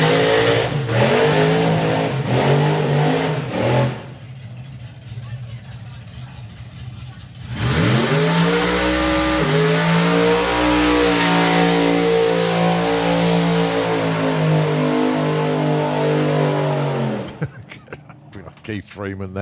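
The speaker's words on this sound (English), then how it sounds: "So I'll let Pads do his burn." A drag racing car does a burnout at a hot rod drag meet, with loud revving engine bursts, a short lull, then a long, sustained, close roar of spinning tyres and engine before cutting off, under a commentator's talk.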